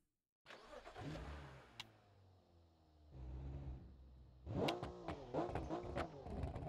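A 1000hp 2JZ-engined Toyota Supra in BeamNG revs up hard from idle, rising and falling through several sharp throttle blips with an aggressive, close engine note and crackles on the last revs.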